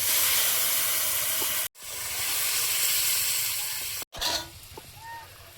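Curry vegetables going into a hot pan for a large-potato curry, a loud, sustained hiss and sizzle broken twice by short gaps, with a light clank near the end.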